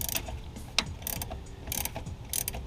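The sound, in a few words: ratchet removing 12mm nuts holding a Camaro master cylinder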